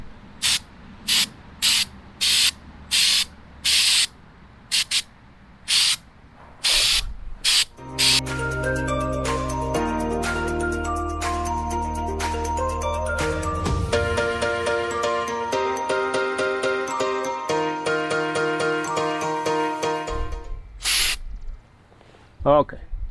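Truck bed liner spray paint hisses from an aerosol can onto bumpers, first in a string of short bursts, then in one long steady spray, close and loud, ending with a few more quick bursts.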